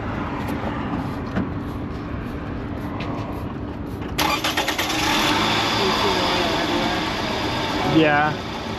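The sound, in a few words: car engine being started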